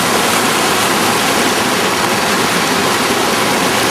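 Bubbs Creek rushes right behind a backcountry campsite with a tent and clothesline on the Rae Lakes Loop, a dense, unbroken hiss and gurgle of flowing water, close and loud with no talk over it.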